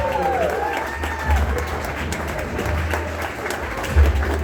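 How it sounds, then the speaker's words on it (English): An audience applauds at a live stage show, steady moderate clapping with some crowd murmur and a faint voice over it. "Give Katie a round of applause."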